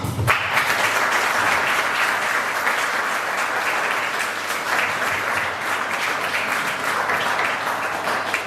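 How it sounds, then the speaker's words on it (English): An audience applauds at a quarterly economic review presentation. The clapping is dense and sustained, a steady wash from a sizeable group that stays even and moderately loud from start to finish, with no voices over it. "also well-worthy round of applause for that"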